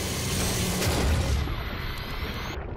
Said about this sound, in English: slow motion gut explosion.